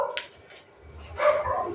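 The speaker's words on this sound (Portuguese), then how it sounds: "O cachorro quer participar do conectado." A dog lets out a couple of short barks and yips, fairly close and moderately loud, with quiet gaps between them.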